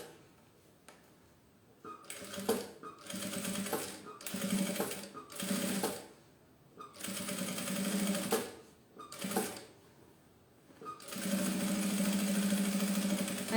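Sewing machine topstitching a zipper pencil case, running in several bursts of steady rapid stitching separated by short pauses, close and fairly loud, ending in one long continuous run.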